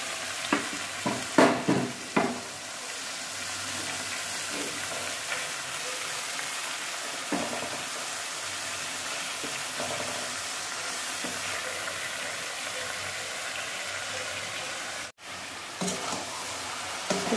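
Chopped fenugreek leaves fry and get stirred with browned chicken in a pan, giving a continuous close sizzle with scraping stirs and a few sharper clatters near the start.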